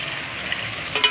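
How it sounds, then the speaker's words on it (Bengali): Spices and bay leaf sizzle steadily in hot oil as the masala for a Bengali fish curry is sautéed. A short scrape of stirring comes near the end. "এবার মশলাগুলো দিয়ে দেবো সব। ভালো করে ভুনে নেব।"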